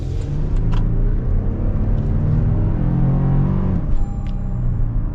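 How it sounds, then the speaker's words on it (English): A 2022 Toyota Tundra SR5 TRD Off-Road pulls hard at full throttle, its engine giving a loud, steady, rising roar heard from inside the cab for several seconds with no talking. "gotta get our full-blown acceleration here"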